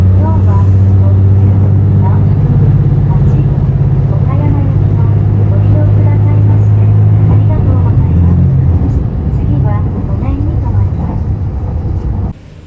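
Limited express Nanpu train pulling out of Kochi Station, a steady loud low engine drone with rumbling running noise throughout, easing near the end.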